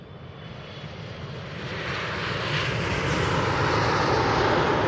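A jet airliner passes close by at Manchester Airport, a broad roaring engine rumble that swells steadily louder over several seconds, with no talking.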